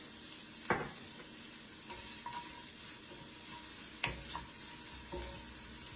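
Onions sautéing in a pan for steak fajita quesadilla, a soft continuous sizzle with a few sharp utensil clinks and scrapes against the pan, close and fairly quiet, no talking.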